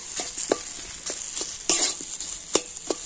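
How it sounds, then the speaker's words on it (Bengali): Boiled potatoes sautéed with spices in a pan, with a steady sizzle and repeated scraping stirs of a utensil against the pan at close range, no talk. "আলুর সাথে মশলাগুলো ভালো করে আমি কষে নেব"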